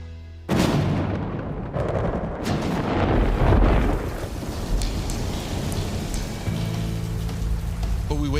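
Heavy storm rain pours steadily and loudly on a ranch, with low rumbling thunder rolling underneath and a few sharper cracks, no voices.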